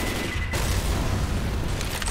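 Grenade explosion in a military shooter video game, a dense, loud blast of roaring noise filling the whole moment, with crackling gunfire layered throughout and no talking.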